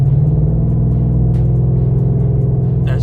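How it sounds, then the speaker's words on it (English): A 2017 Ford F-150 with the 5.0 V8 and Corsa Pro exhaust accelerating from around 46 mph, a loud, steady, deep exhaust rumble with a throaty burble heard from inside the cab, no voices. "Let me give it a little bit of gas."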